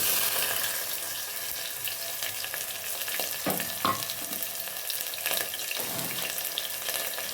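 Sliced onion and garlic fry in a pan with a loud, continuous sizzle, while stirring adds a few clattering scrapes throughout. No one speaks.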